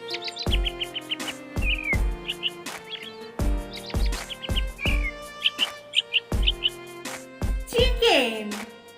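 A robin gives repeated short, high chirping calls in quick bursts, spread across the clip and heard alongside a voice talking.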